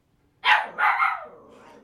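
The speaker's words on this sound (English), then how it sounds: "He doesn't normally bark." A dog barks twice, loud and close, in a quiet room. The second bark trails off into a softer yelp.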